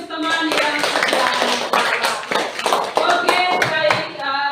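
A classroom of students applauds a classmate, a few seconds of dense, uneven hand clapping from many people close by, with scattered voices mixed in.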